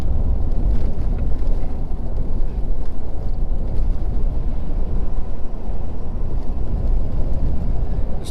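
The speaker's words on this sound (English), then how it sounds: "This road is terrible." A truck rolls over a rough, bumpy road, a steady low rumble and rattling road noise with wind buffeting, continuous and fairly loud with no talk.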